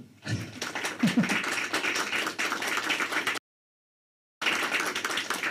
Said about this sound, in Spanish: yo creo que merece un aplauso